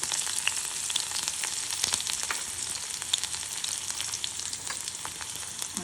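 Onion and garlic fry in hot oil with cumin, mustard seeds and chilli in a pan, a steady bright crackling sizzle with scattered pops, close and continuous with no voices.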